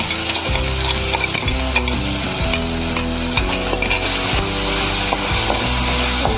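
Loud, continuous sizzling as garlic masala paste fries with green chillies, with busy rhythmic scraping and clacking of a stirring spoon against the pan throughout, no talking.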